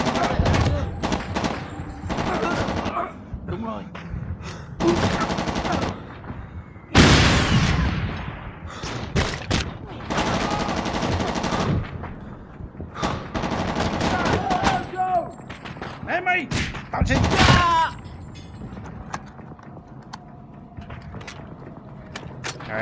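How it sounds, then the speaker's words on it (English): Gunfire in the Vietnam War shooter Shellshock 2: Blood Trails, repeated bursts and single shots at varying distance from a window position, with sharp loud cracks and busy battlefield clatter throughout. "Stand here in a window and shoot some dudes"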